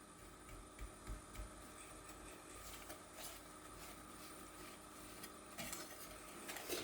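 Syrup with ground cinnamon is whisked in a pot, giving quiet, steady scraping and light clinking strokes that run throughout, with a few sharper taps.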